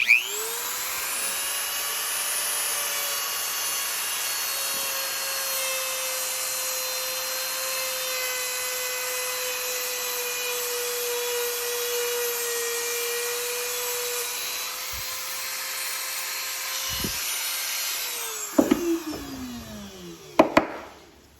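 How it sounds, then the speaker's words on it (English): Steady, continuous rubbing drone of hand sanding on the handle of a Spyderco Para 3 knife for most of the stretch, ending with a few knocks and scrapes. "And we'll move to the hand sanding."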